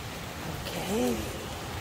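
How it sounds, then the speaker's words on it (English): Steady rain falls after a stormy night near the jungle and beach at Puerto Viejo, Costa Rica, a soft, even hiss throughout with a brief voiced sound in the middle. "It was a stormy night and it's still raining"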